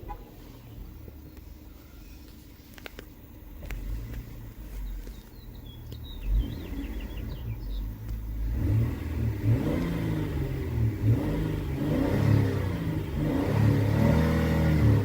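A 2023 Honda Odyssey engine sits quietly at idle, then revs steadily upward toward its 5,000 RPM rev limiter. The engine grows louder and holds a high, strained pitch to the end.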